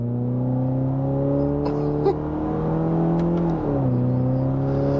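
Subaru Impreza fitted with a Nameless Performance exhaust, running a steady, loud drone that holds its pitch, then dips and settles as the revs ease off.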